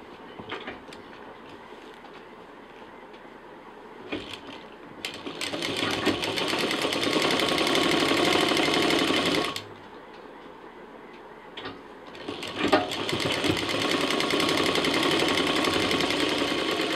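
A sewing machine stitches a sling bag in two sustained bursts of fast, even clattering, separated by a brief pause, heard up close and fairly quiet.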